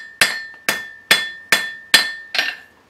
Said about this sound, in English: You kind of got to gauge your blows for the thickness of the metal.